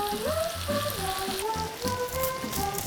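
Food being stir-fried in a pan, a steady sizzling hiss with rhythmic scraping, with a melodic tone running throughout over the cooking.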